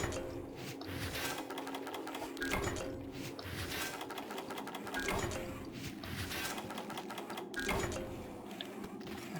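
Mining with a pickaxe in Monster Hunter, a series of metallic clinks and scraping strikes against rock repeating at intervals over a busy mechanical game backdrop.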